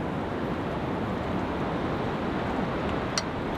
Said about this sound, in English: It is incredibly windy.